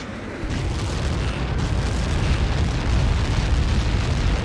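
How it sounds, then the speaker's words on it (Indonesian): A sustained, heavy explosion rumble roars continuously in the video game Ace Combat 7, loud and broad, with no voices. "Caught in that explosion."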